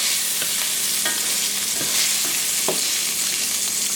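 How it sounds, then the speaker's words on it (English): Tofu frying in grapeseed oil, a steady loud sizzle and crackle running continuously throughout, with a few brief stirring or scraping touches. "I'm just taking it from there and putting it into grapeseed oil, and then I'm gonna let it just cook for a little while"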